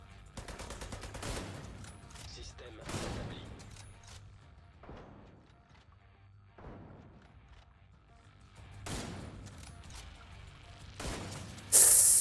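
Bursts of gunfire in The Division 2 video game, several separated volleys and rapid shots spread over the stretch with quieter gaps between, moderately loud, with some mechanical clicks.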